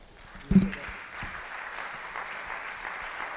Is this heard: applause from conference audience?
yes